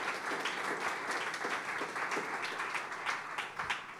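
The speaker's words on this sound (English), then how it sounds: "We should just give Dylan a round of applause" A steady round of applause from the audience at a political talk event. Many hands clap evenly and at moderate loudness the whole time, with no voices over it.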